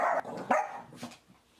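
Small dogs bark at a passerby on the street, two or three sharp, fairly close yaps that trail off into quieter whimpery sounds.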